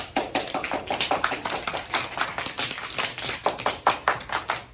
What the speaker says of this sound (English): Let's clap for that book.